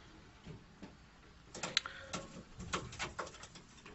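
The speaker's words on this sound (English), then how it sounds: "Okay, pigeons." Homing pigeons at a loft give soft, faint calls and coos scattered through a quiet stretch, with a busier cluster of brief calls and rustling toward the middle and end.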